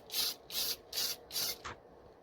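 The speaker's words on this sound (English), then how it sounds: "Short sprays and keeping the can moving so you don't end up with any runs." Blue spray paint from an aerosol can misting onto an RC car body: four short, even hissing bursts in a steady rhythm, then a brief fainter puff, close by with no talking.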